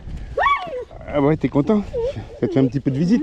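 A very large dog of about 60 kilos whimpers and gives short yips in between and under someone talking affectionately to it nearby.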